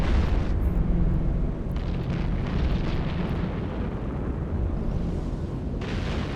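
A defensive tower in EVE Online firing, heard as a continuous deep, rumbling roar of blasts with a few sharper bursts, loud and steady throughout with no talk.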